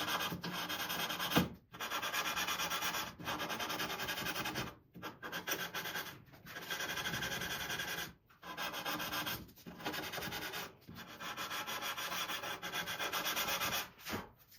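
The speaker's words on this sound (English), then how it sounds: "So that's just an approximate chamfer with some 220 sandpaper" Hand sanding with 220-grit sandpaper rounds a small chamfer onto the foot of a wooden ladderback chair: steady close rasping strokes in long runs, broken by several brief pauses.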